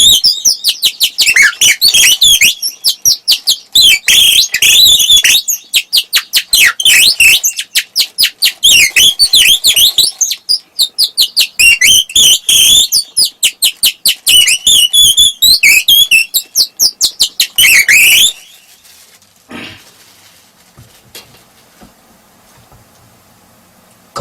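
A man mimics birds fighting with his voice, a rapid run of sharp, shrill chirps and squawks bursting in dense clusters for about eighteen seconds before falling to near silence.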